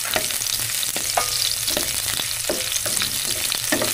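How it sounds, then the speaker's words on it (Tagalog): Garlic and onion sautéing for pork asado, a dense, continuous frying sizzle close up, punctuated by regular sharp scrapes and taps of a utensil stirring through the pan, with no talking. "Halo-haloin lang natin para maluto yung sibuyas at bawang."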